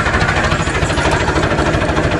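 A tractor engine running in Cholistan near Bahawalpur, a loud close diesel chug with dense rhythmic knocking and rattle, steady throughout.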